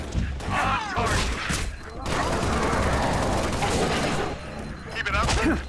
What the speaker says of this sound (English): Enemy fire! There are hostiles near.